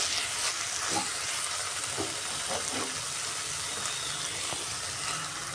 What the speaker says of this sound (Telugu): మసాలా పేస్ట్ కూడా వేసేసుకుందామండి ఒక మూడు నిమిషాలు బాగా వేగనిద్దాము